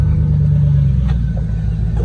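A loud, low rumbling truck engine, a 2007 Chevrolet Tahoe LT with straight-pipe exhaust and a Banks Power cold air intake, runs steadily throughout, a deep throaty idle with a slight rise in revs near the start, heard up close.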